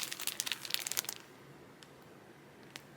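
Plastic packaging crinkled in a rapid burst of sharp rustles during the first second, followed by quiet and one last faint crackle.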